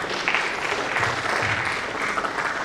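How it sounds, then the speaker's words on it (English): Audience applause at a StudyMetro partner conference, a steady dense wash of clapping from a crowd indoors, sustained at even loudness for the whole stretch with no talk over it. "Can we have a big round of applause for Ms. Yogita?"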